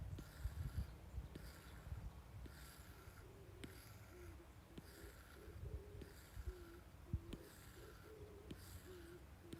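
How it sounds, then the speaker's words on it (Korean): A bird calling from a nearby tree outdoors, a faint repeated hooting note recurring every second or so over a soft background hiss, with no talk. "지금 새소리 들리시나요?"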